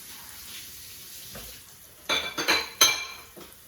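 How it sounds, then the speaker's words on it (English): Rice for Mexican lemon white rice stirred in a pan over high heat, starting with a quiet hiss, then bursts of metal spoon scraping and clinking against the pan in quick strokes. "I have it at high heat. That means that I'm going to be keeping an eye on it and moving it constantly"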